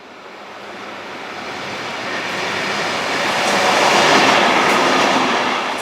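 A six-car Comeng electric train running on rails, a broad rushing roar with faint rhythmic clatter that swells steadily as it draws closer, peaking near the end with no voices.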